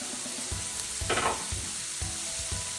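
Pepper, garlic, ginger and onions sauté in a hot pan for coconut curry chickpeas, giving a steady, close sizzle with a brief louder hiss of stirring partway through.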